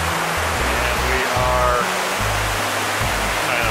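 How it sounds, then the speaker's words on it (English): Panther Creek Falls waterfall roaring as a steady, loud broadband rush heard close from near the precipice, continuous and unbroken with low rumbling underneath, no voices. "we're taking a closer look at Panther Creek Falls"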